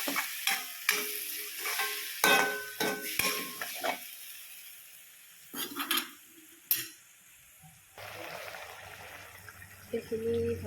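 Skunk vine leaves are added to ginger and garlic frying in a pan and stirred with a utensil, giving clattering scrapes and bursts of sizzling, with quieter stretches between.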